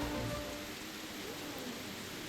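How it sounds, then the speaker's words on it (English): Steady rain falls at the German Grand Prix in an F1 racing game, a constant even wash of hiss with no voices, moderately loud throughout. "wouldn't be the German Grand Prix without a little bit of rain"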